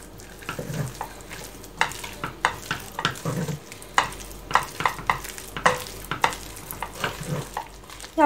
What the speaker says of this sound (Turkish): Ve karıştırmaya devam.